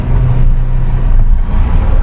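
A manual car engine droning steadily at moderate revs while pulling away, a continuous low hum heard from inside the cabin with no distinct gear change.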